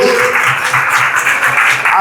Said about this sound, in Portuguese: E vamos aplaudir Jesus, irmão.